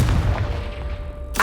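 Confringo blasting spell from Hogwarts Legacy, a single deep booming explosion that rumbles close and loud before fading, with a sharp burst at the very end.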